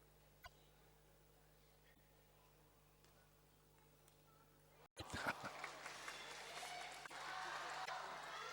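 Crowd at the 2012 China Open men's table tennis final between Ma Long and Xu Xin bursts into loud applause and cheering midway, following a quieter hall with occasional ball knocks.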